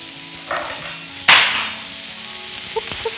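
Fennel frying in oil with chorizo in a pan, a steady sizzle with a sharper burst of spitting partway through, close and alone.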